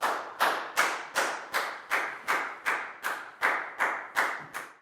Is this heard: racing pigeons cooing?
no